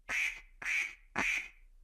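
Animated ducklings at a lake give three loud, evenly spaced quacks, each a short nasal burst with nothing else around it.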